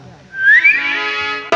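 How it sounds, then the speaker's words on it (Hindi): A person whistles a single bright rising note that swoops upward and then holds with a slight wobble, close and loud, ending in a brief sharp click. "ये जो आपकी सीटी खुल गई है, इसे बंद करो।"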